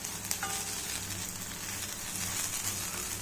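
Paneer shallow frying in oil, a continuous dense crackling sizzle that stays even and close throughout, with no voices.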